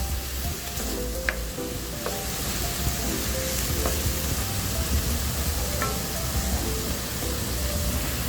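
Ground pork frying with onion and garlic in a pan, a loud continuous crackling sizzle close up with occasional scraping stir strokes and faint utensil taps, no voices.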